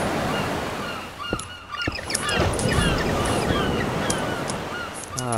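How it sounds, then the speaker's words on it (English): Ocean ambience in the Tekkit modpack of Minecraft, a steady broad wash of surf with honking, chirping creature calls layered over it. "Ah, the sound of the ocean."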